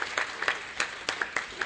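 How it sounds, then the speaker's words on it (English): Scattered applause from a lecture audience, individual claps popping out in uneven bursts at moderate volume with no talk over them. "So I would invite you to give them a loud round of applause."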